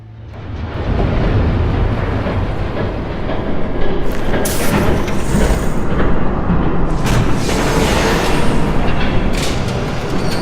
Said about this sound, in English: Train coming. Take cover.